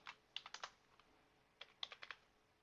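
Quick bursts of keystrokes on a computer keyboard, a clicky cluster of about five, a pause, then another cluster of similar taps, recorded close in a quiet room.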